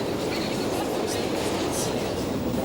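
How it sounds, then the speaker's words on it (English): A Moscow metro train runs at speed, a steady loud roar of wheels and rails with a dense rumble and faint rhythmic clatter lasting throughout. "Today's Western visitor is likely to be particularly impressed with Moscow's clean and efficient metro"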